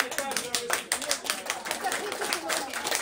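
Audience clapping at a talk given to a group of older women, a dense patter of many hands that runs steadily throughout with voices talking over it.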